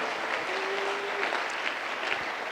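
A church congregation at a French-language sermon breaks into steady applause and cheering, a dense wash of clapping with a few louder voices rising from the crowd.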